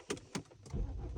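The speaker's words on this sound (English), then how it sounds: "Yeah, so car starting." A BMW 5 Series is started: two quick clicks come first, then the engine catches and settles into a low, steady rumble nearby.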